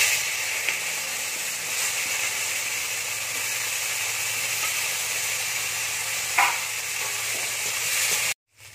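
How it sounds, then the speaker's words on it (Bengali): Bitter gourd fries in oil left over from frying fish, with a steady, close sizzling hiss and a few faint clinks of stirring. The sound holds evenly for about eight seconds before ending suddenly. "ওই তেলেই উচ্ছে ভেজে নেব।"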